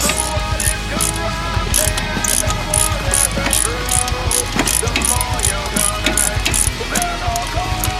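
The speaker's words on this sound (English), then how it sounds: "we have to pull the axle nut" Rapid ratchet clicking while loosening an axle nut, steady close mechanical pawl clatter in quick bursts throughout, no speech.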